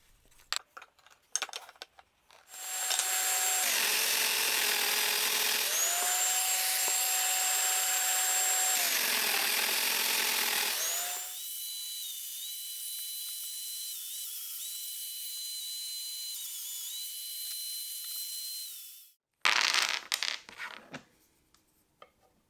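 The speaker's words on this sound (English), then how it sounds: "After cutting out the mortises" A domino joiner cuts mortises into wood, its loud steady motor whine running for several seconds, then dropping to a lighter, higher hum as the cut finishes, with brief clunks of handling before and after.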